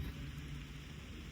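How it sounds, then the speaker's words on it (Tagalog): Steady rain falls beside a lake at Mount Fuji on a cold day, a dense continuous hiss with low rumbling beneath, close and fairly even throughout, with no voices. "Rainy day."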